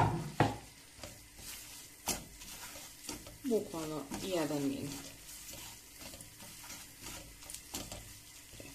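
Garlic sizzles softly in a pan for a green bean dish, with a low, steady frying hiss and occasional stirring clicks while a person talks over it.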